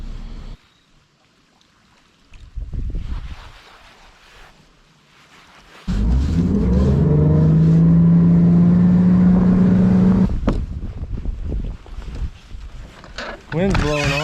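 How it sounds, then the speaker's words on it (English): Wind buffets the microphone during a championship fishing tournament, with a heavy low rumbling roar that swells and dominates the middle stretch, alongside intermittent engine-like drone and people talking. "Wind's blowing on it"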